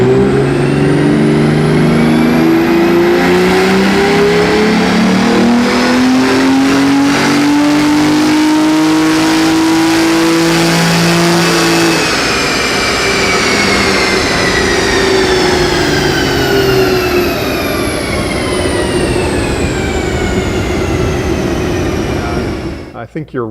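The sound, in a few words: car engine revving during dyno power pulls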